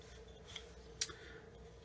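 A knife shaves soft wood while a bunny figure is whittled, a quiet scrape followed by one sharp slicing cut, heard close and alone against a faint hum.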